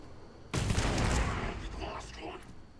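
A burst of Nova Blast explosions in the video game goes off suddenly and loud, then trails into a rumbling, crackling decay that lasts a couple of seconds.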